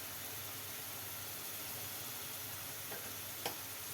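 Spices frying in a pan for a tamarind colocasia curry, giving a soft, steady sizzle throughout with one brief clink near the end.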